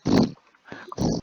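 A human voice imitates the low growl of a tall winged creature rearing back with wings spread: two short rough, guttural bursts with a soft sound between them, close and moderately loud.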